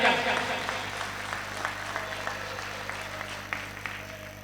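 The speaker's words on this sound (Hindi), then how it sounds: "पीछे तक जोरदार तालियां बजाकर" An audience at a book launch and poetry gathering in Sikandrabad applauds, loud at first and then thinning into scattered, steady claps close by.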